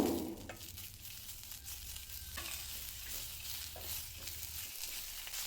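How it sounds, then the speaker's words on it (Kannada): Three small tomatoes fry on low flame in a kadai, a steady soft sizzle with occasional stirring scrapes, close and continuous with no talking. "ಇದು ಸ್ವಲ್ಪ ಸಾಫ್ಟ್ ಆಗೋವರೆಗೂ ಲೋ ಫ್ಲೇಮಲ್ಲಿ ಫ್ರೈ ಮಾಡ್ಕೋಬೇಕು"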